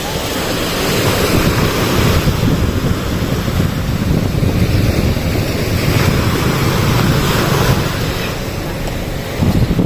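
Ocean surf rumbles and washes steadily, mixed with heavy wind buffeting the microphone, loud and continuous.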